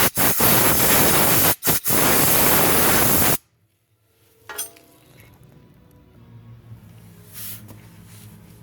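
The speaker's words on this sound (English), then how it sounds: "don't be afraid to use some compressed air" Compressed air blasting into the transmission seal bore of a BMW 325i, a loud close hiss lasting a few seconds with two brief gaps, then cutting off to quiet shop background with a few small clicks.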